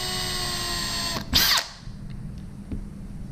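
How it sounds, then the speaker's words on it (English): A small power drill whines steadily, then stops with a short burst of grinding as the bit bites into plastic, followed by faint clicks. "Get a really small drill bit like this and just drill some little"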